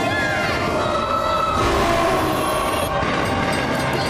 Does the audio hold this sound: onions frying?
no